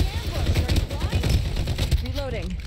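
Rapid bursts of Farlight 84 video game gunfire crackle over a busy mix of game sounds and background voices, loud and close throughout.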